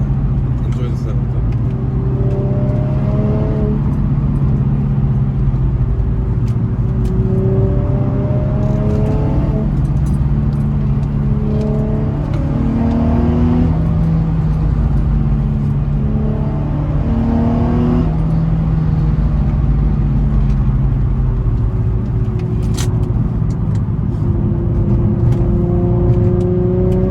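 An Infiniti G35's intake and exhaust drone loudly and continuously during a night mountain touge drive, the engine note repeatedly climbing and dropping as it revs through gears over steady road noise.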